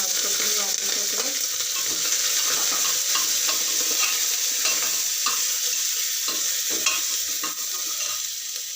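Green chillies and garlic paste frying in oil with whole spices for khichdi, a loud, dense, steady sizzle with occasional scrapes and taps of stirring, heard up close without speech.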